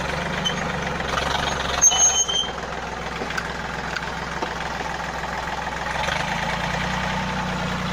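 A Yanmar 1145 tractor pulling a five-shank subsoiler runs with a steady, rough diesel rumble, close and continuous, with a short clunk partway through and a slight change in engine note toward the end.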